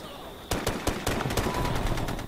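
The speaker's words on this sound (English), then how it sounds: "the drum mag ACR just puts out a lot of bullets" Rapid automatic bursts from an ACR rifle with a drum magazine in Ghost Recon Future Soldier, a quick string of sharp cracking shots after a brief quieter lead-in.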